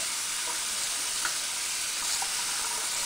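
Water runs steadily over a synthetic lace front wig during rinsing, a continuous soft hissing stream with faint splashy flickers, heard alone at low level.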